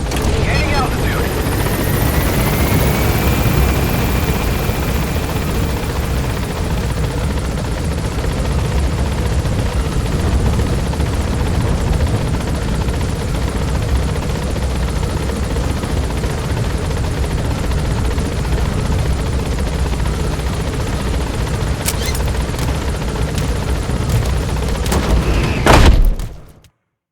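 Helicopter gaining altitude in Metal Gear Solid 5: The Phantom Pain, a loud, continuous rotor thump and engine roar that holds steady, then cuts off abruptly near the end.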